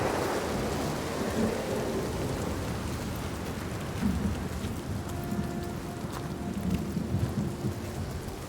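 Heavy rain pours steadily with rolling thunder underneath in a Hellblade 2 game storm, a dense continuous wash that swells slightly in places, with no voices.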